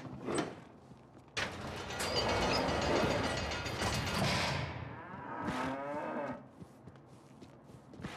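Cattle mooing in the horror game Cryostasis, several loud drawn-out moos that swell and fade over a steady mechanical rumble, with a later moo rising near the end before the sound drops away.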